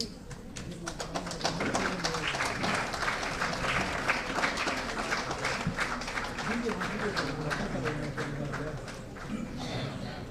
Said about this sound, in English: Can we give them another round of applause as they make their way?